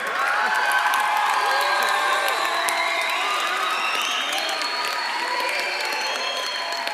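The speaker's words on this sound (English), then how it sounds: "Class of 2017, graduation day has finally arrived. Go ahead, cheer." A large crowd of high school graduates cheers and applauds continuously at a graduation ceremony, with whoops and shouts rising over a dense, steady roar of clapping.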